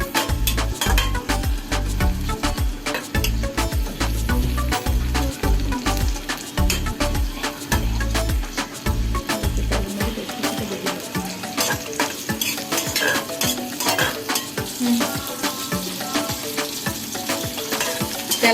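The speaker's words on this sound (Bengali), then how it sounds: "তেলের মধ্যে পেঁয়াজ কুচিটা ভেজে নিব।" Chopped onion fries in about half a cup of oil, sizzling steadily up close while a utensil stirs and scrapes the pan in frequent clinks, and no one speaks.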